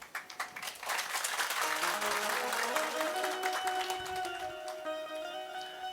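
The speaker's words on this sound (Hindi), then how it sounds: "अरे आप तो ताली भी बड़ी सुंदर बजा लेते हैं।" An audience claps together at a devotional discourse, with a few scattered claps first, then dense sustained applause that thins out near the end, mixed with faint tones.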